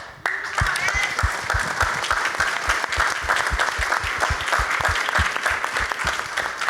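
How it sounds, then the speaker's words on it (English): An audience claps steadily in a dense, continuous round of applause that starts abruptly and keeps an even rhythm close by. "Another round of applause for Ashley and Barry and X and Sulay."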